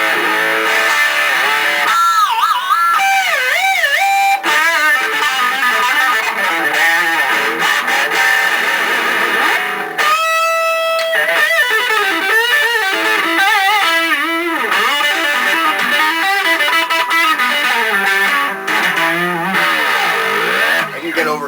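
A distorted electric guitar with a Stetsbar tremolo bridge plays bending, wailing notes and riffs, gritty and sustained, loud and close with no talking.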